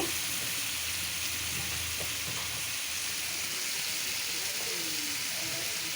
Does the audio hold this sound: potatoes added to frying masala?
yes